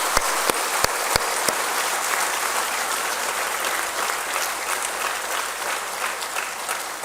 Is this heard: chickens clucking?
no